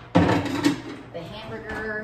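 A pan is pulled from a kitchen cupboard with a loud clattering knock at the start and a brief rattle, followed by quieter room noise and faint household sounds.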